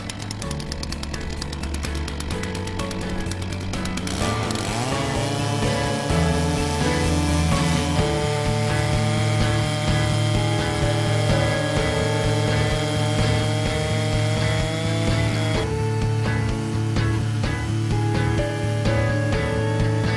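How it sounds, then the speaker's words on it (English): A loud chainsaw fitted to a portable log-milling attachment runs continuously, its pitch dropping and straining as its guide bar bites through a log, then holding a steady, heavy drone. "Hold far down on the chainsaw handle and the guide bar will cut easily through the log."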